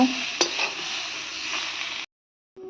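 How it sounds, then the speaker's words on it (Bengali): Pieces of pointed gourd (potol) fry in oil in a pan, giving a steady, close sizzling hiss with a clink of stirring. The sound cuts off abruptly near the end and returns briefly. "তো দেখো পটলগুলো আমার মোটামুটি ভাজা হয়েই গেছে। তো এটাকে আরেকটু ভালো করে ভেজে নেব।"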